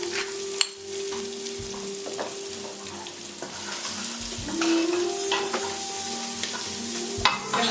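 Garlic sautéing in a big pot with kosher salt and black pepper, a steady close sizzle with occasional stirring scrapes and a couple of sharp utensil clicks.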